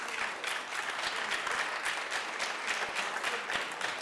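Audience applause fills a committee meeting room, a steady dense patter of many hands clapping throughout without a break.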